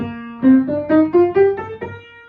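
A piano plays eight rising notes one after another, an even ascending major scale, fairly loud, with the last note ringing out alone.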